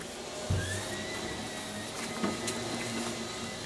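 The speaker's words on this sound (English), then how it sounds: "Sorry about the vacuum cleaner in the background." A vacuum cleaner runs in another room, giving a steady, moderately quiet drone with a faint whine throughout. A single soft knock sounds near the start.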